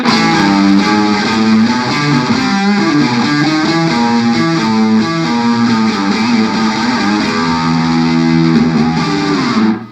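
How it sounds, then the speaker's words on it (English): Electric guitar through an Avery Amps JABO 45 distortion pedal plays a heavily distorted, sustained, chord-driven riff, loud and saturated throughout, cutting off abruptly at the end. "This is my main distortion sound, which I pretty much use on everything."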